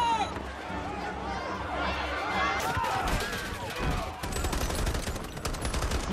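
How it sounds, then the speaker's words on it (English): Gunfire and chaotic crowd commotion from a Dawn of the Planet of the Apes film scene, with rapid shots and shouting mixed under dense music and running. "Guns and shooting."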